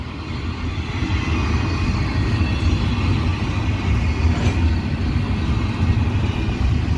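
A Norfolk Southern northbound intermodal freight train rolls past in a steady, loud rumble of wheels and cars. It is heard close by, continuous throughout, with no talk.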